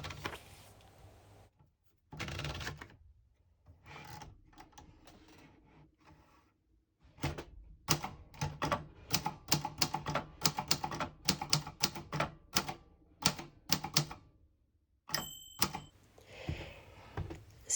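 Typewriter keys striking paper in irregular bursts, sharp close clacks in quick runs separated by pauses, with a faint ding and carriage shift near the end, quiet and alone.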